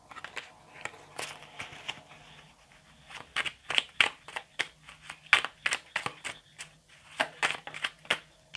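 Angel oracle cards shuffled by hand for a reading, a close series of crisp riffling bursts and light snaps in an uneven rhythm, quiet and without talk.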